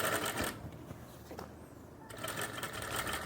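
Sewing machine stitching the waistband strip of a women's pant, a steady mechanical whirr of rapid stitching that runs, drops to a quieter pause in the middle, then resumes at full speed.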